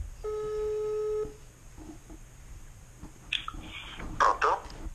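Telephone keypad tones as a friend's number is dialed, a short run of steady dial beeps followed by faint clicks and handling noises, close and clear.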